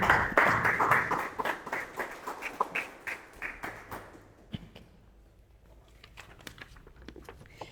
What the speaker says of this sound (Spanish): Damos la bienvenida con un aplauso